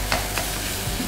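Turmeric anchovy fried rice being stirred in a hot pan, a steady sizzle with a few sharp scraping strokes of the spatula over a low rumble.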